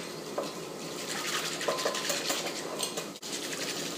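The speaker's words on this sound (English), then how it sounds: "Let's whisk it together so we don't have any flour clumps." A whisk beats flour and half a cup of water together in a bowl, a steady, fairly quiet scraping and clinking of metal against the dish with a brief dropout near the end.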